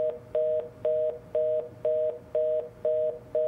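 A telephone busy signal from the Unheard video game: a steady two-tone beep repeating at an even, quick on-off rhythm, clear and alone with no talking.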